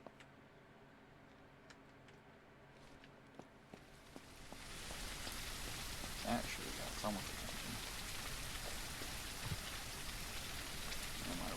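Rain in the video game Surroundead sets in partway through, a dense steady patter that builds from quiet to a constant wash, with someone talking briefly over it.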